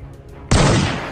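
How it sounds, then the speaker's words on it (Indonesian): A toy cowboy pistol fires a single loud sharp crack after a moment of quiet, its noisy burst lingering and slowly tapering off. "Wih, ada cowboy pistol."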